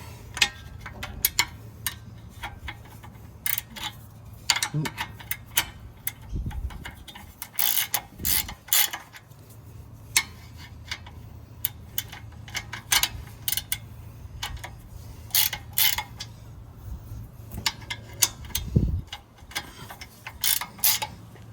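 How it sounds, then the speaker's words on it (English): A 17mm spanner ratchets brake caliper bolts back down on a Mitsubishi Pajero, giving quick bursts of metallic clicking and ticks separated by pauses, with occasional thuds of tools. "sit them back on top, and you can start ratcheting them back down"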